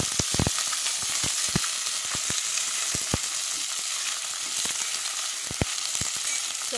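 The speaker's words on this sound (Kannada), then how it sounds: "ಇವಾಗ ಕಟ್ ಮಾಡಿಟ್ಕೊಂಡ ಬದನೆಕಾಯಿಯನ್ನು ಹಾಕ್ತಾ ಇದ್ದೇನೆ ಎಲ್ಲ ಮಿಕ್ಸ್ ಮಾಡ್ಕೋಬೇಕು" Cut brinjal (eggplant) pieces frying in a pan for brinjal gojju, a steady bright sizzle with scattered clicks and knocks of stirring, close and continuous without talk.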